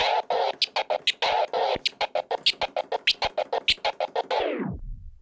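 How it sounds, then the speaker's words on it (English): A DJ transformer scratch chops a long sustained sample into rapid rhythmic stutters, a fast regular on-off pattern that ends with a falling pitch sweep. "So the transformer scratch will definitely work better with a longer sound"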